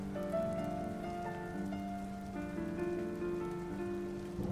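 Gentle continuous rain from a video playing in the background, low and hushed, with faint held tones drifting beneath the patter throughout.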